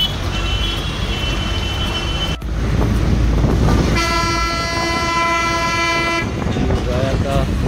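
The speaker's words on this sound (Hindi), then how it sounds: "अब ये ट्रेन आ रही होगी" Passenger train passing close through a town market area in Raya near Mathura, India, its horn sounding a long sustained toot over steady rolling rumble and street noise, with people talking.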